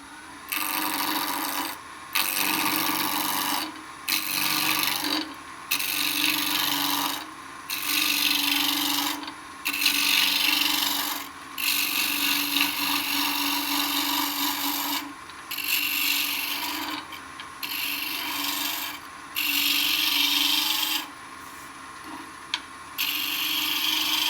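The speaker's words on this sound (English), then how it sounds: "I'll always start out with a roughing gouge." A roughing gouge cuts into spinning wood on a lathe while an acorn is turned, a loud, close scraping rasp in repeated passes of a second or two, each separated by short pauses.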